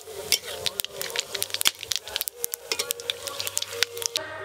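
Dry red chillies, bay leaves, whole garam masala and cumin seeds crackling in hot mustard oil, giving fast irregular pops and spits over a soft sizzle, close up, with someone speaking.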